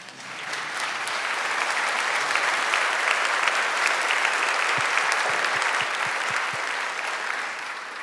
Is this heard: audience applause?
yes